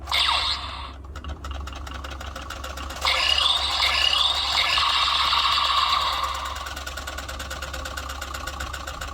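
A DX Gotchartornado, a Kamen Rider Gotchard toy, spins freely with a loud, steady, rattling whir. The whir swells in pitch and loudness after a short pause near the start, then keeps going at a constant level.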